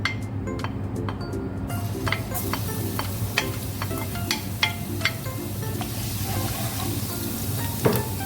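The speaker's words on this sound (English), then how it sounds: "you heat up a pan with some oil. I'm gonna add the garlic in first." Garlic sizzles in hot oil in a pan, a steady close frying crackle with scattered clinks and ticks from stirring, and no talking.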